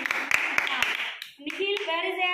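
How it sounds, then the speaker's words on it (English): A few sharp claps from children in a classroom for a classmate named Ashita, brief and scattered, with a voice and other children's voices talking over and after them. "Oh, clap for Ashita."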